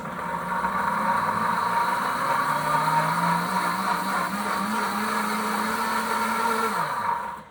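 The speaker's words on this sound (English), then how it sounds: "We've got the sauce here in the blender." A heating blender runs loudly and steadily with a constant whirring motor hum while warming sauce, winding down in pitch right at the end.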